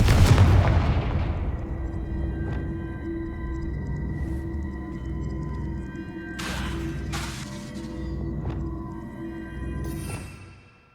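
A Confringo explosive spell from Hogwarts Legacy gameplay: a booming blast opens with a sharp crack, then a long rumbling decay with a few fainter bursts and crackles later, no talk.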